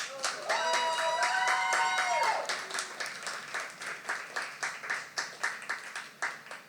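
Crowd at a poetry slam applauds a poet after scores are read, starting under a brief tonal swell, then settling into clapping that turns into rhythmic, evenly spaced claps.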